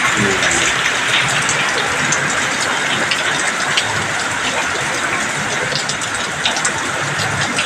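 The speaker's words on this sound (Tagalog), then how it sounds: "Malakas ang ulan." Steady, loud downpour hissing continuously with no break, heavy rain drumming on surfaces throughout.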